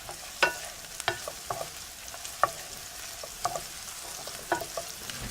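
Onions fry in a pan over medium heat, a soft steady sizzle broken by a series of sharp scraping stirs and clicks of the utensil, close and fairly quiet, with no talking.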